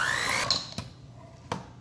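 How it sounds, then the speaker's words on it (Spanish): A motorized hand mixer whirs at a steady high pitch mixing keto cheesecake batter, then winds down, with a few sharp clunks as the beaters knock against the bowl. "ahora vamos a revolver esto con la batidora"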